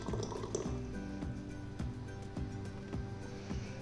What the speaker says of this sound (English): We're going to pour it into our serving dish.